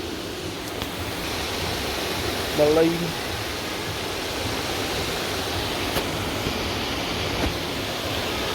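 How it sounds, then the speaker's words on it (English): A waterfall in a large shopping centre pours as a steady, even rush of water that fills the whole clip, with a brief voice speaking over it. "Beautiful waterfall."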